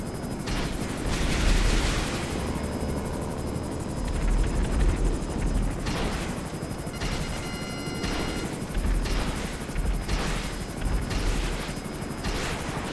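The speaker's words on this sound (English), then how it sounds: "I'm the only aircraft in the sky right now." Rotor thump of a military helicopter in a roleplay combat video game, a steady drone running throughout, with bursts of gunfire and machine-gun fire breaking in repeatedly over it.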